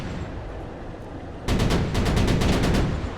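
Gunfire from units in the military strategy video game Broken Arrow: after a steady low rumble, a loud burst of rapid repeated shots breaks in, several in quick succession over about two seconds, with no talking.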